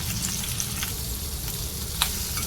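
Green chillies sizzle steadily in a pan for tomato pachadi, a constant close frying hiss with a few faint spatters and one sharper pop, no voices.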